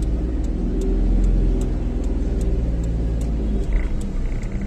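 A car driven by a learner on a highway road pulls away in first gear, a steady close engine drone with low rumble and faint ticking, rising gently as it moves off.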